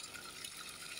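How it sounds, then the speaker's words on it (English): Steady, faint hiss of water pouring into an Azolla pond on a pig farm, a continuous broadband gush with no voices. "Now we are filling our Azolla pond"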